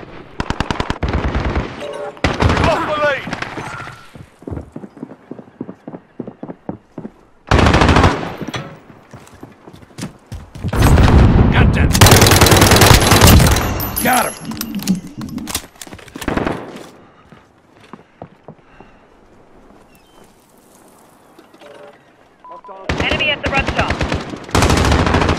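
Automated turret in a video game fires machine-gun bursts, loud and close, in several long rattling volleys separated by brief pauses, with a burst of gunfire continuing near the end.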